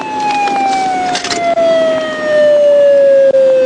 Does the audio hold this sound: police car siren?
yes